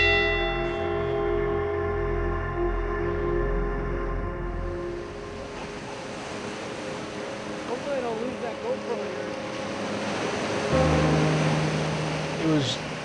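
A bell rings out at Whitefish Point on Lake Superior, its long, sustained tone slowly decaying into wind and water noise, with a fainter strike near the end.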